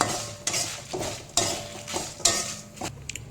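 Cut chilies frying in hot oil in a pan for a Telugu spice powder, a steady close sizzle broken by repeated stirring scrapes and clinks of a spoon against the pan.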